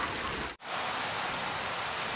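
Heavy rain pours down outdoors at night as dense, steady hiss and patter, loud and close, with a brief cut near the start before the downpour continues unbroken.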